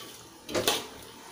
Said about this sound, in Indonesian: Kita kasih air sedikit aja, karena nanti sayur-sayurnya juga mengeluarkan air ya.